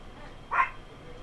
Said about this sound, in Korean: 구름이가 짖고 있어요. 우리 집 강아지죠.